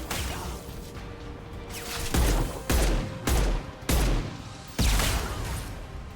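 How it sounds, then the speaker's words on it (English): Concussive shot ability in Mass Effect 2 fires in a rapid string of five or six loud, punchy blasts, each with a heavy low thump and a crackling tail, close and prominent over a steady combat rumble. "Concussive shot ready"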